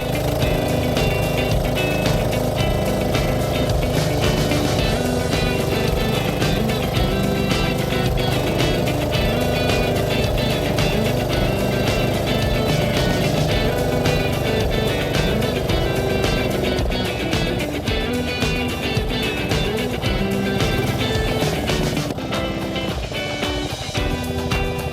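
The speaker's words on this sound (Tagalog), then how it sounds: "At ayan na nga, binirit na ang ating motor." Outboard motor of a small fishing boat revving, a loud continuous engine drone with a steady buzzing tone, droning close by for the whole stretch with slight shifts in pitch toward the end.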